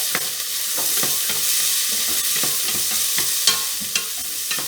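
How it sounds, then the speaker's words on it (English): Two medium onions soften in oil in a pot on a hob set to about 6, hissing with a steady loud sizzle, with a few light stirring scrapes and taps close by. "these onions just softened in the oil"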